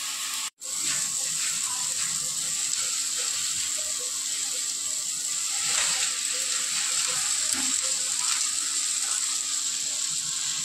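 Crumbled leftover roti tossed into a hot pan of tempering, sizzling and frying steadily with occasional scraping stir noises, a continuous close crackle after a brief gap near the start.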